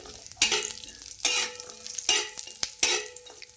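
Dates dropped into hot ghee sizzle and fry in a pan, with four loud bursts of crackling as they are stirred, each swelling and then fading.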